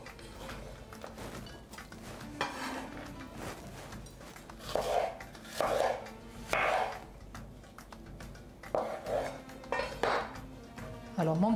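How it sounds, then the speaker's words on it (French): A bell pepper being cut into strips on a board: a run of knife taps and chops, with clinks of pots and utensils, some louder bursts mid-way, close and moderately quiet, with a voice faintly present. "Je vais plutôt les découper en lamelles"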